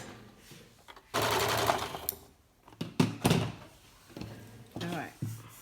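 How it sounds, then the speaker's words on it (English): A sewing machine stitches a curved seam on a hooded garment in bursts, with a fast buzzing run of about a second followed by shorter spurts and pauses, close by and loud, as a person talks between the runs. "I'm going to sew along the curve"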